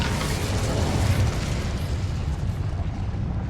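An Incendio fire spell cast in Hogwarts Legacy, a whooshing burst of flame that swells quickly and then fades into a rumbling roar, loud and filling the game mix.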